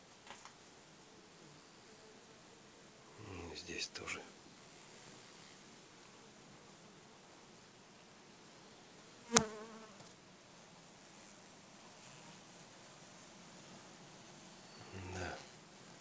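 Honeybees shift about inside a wintering hive in late December, making a faint, continuous low buzzing hum with occasional soft scraping and a sharp knock partway through; someone speaks briefly and quietly.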